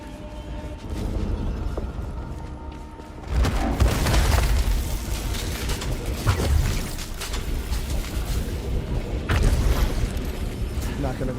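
Rocket launcher blasts in the sci-fi shooter Returnal: two heavy, booming explosions land several seconds apart amid clanking mechanical game noise, with a voice talking.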